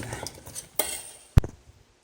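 A pot of thickened maple syrup pie filling is worked with a utensil, giving scraping, stirring noises and two sharp clinks against the pot, close and fairly loud.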